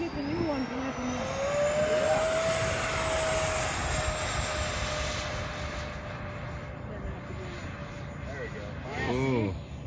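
E-flite SU-30 RC model jet taking off on a runway in Utah, a loud whining ducted-fan roar holding a steady rising pitch as it accelerates away, with people talking nearby.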